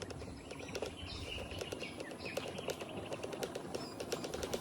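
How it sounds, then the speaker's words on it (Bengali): Birds call and chirp in a quiet rural garden on an island village, with soft repeated tweets over a steady low background hum, fairly faint and distant, no talking. "শুধু পাখি ডাক শোনা যাইতেছে"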